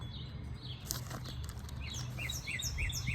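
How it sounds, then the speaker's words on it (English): Spring birds chirp outdoors around a garden, giving repeated short, bright calls over a steady low background hum. "You can hear the birds out here."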